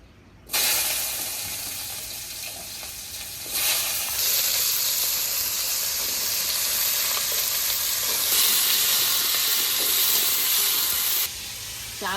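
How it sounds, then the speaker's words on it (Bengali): Vegetables dropped into hot mustard oil in a heated kadai set off a loud, steady sizzle that flares up and holds, with brief shifts as the pieces are stirred, no voices over it. "কড়াই গরম হয়ে গেছে, আমি সবজিগুলো দিয়ে দেবো।"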